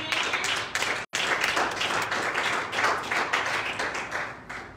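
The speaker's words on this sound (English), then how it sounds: "Will you clap your hand unto the Lord?" A church congregation claps steadily and continuously, a dense patter of many hands, briefly dropping out once before resuming.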